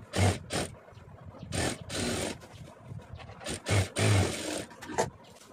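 A sewing machine stitching chudithar semi-patiala pant panels, running in several short bursts with pauses between, close and moderately loud with fabric handling noises in the gaps.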